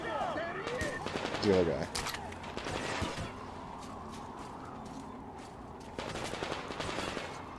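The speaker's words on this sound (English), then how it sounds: "I know I'm being shot at, but I don't know from where, and they're missing" Enemy gunfire in a video game, sounding as bursts of shots mixed into dense game sound effects and music, with someone speaking briefly over it.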